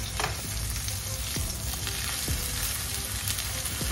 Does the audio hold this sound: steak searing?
yes